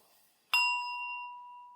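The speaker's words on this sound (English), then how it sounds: "I will ring the bell" A single bell struck once to close a group reflection period, a bright ding that rings out and slowly decays over the following second, alone in a quiet room.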